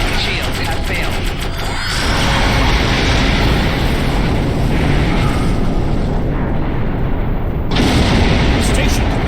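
Starship cannon fire and explosions in the Star Trek Online video game, a dense, continuous barrage of loud blasts and rumbling impacts running through the whole stretch, with a character's voice speaking over the battle.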